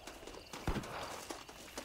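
In the Red Dead Redemption video game, a horse's hooves clip-clop in a few faint, scattered beats, distant and quiet.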